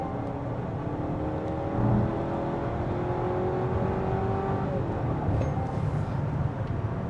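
A 2025 Volvo XC60 engine revving around 2000 rpm on the move, a smooth steady hum with road and wind noise, one slight swell in pitch, heard from inside the cabin.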